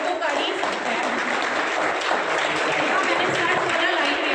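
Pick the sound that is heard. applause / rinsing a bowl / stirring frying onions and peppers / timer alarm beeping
applause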